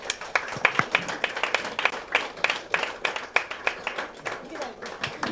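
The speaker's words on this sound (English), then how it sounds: "Let's have a big round of applause for this team." An award-ceremony audience bursts into a big round of applause for an ICU hospital team, dense continuous clapping close by and steady throughout, with voices faintly underneath.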